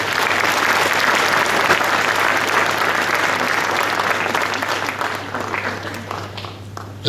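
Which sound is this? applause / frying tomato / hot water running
applause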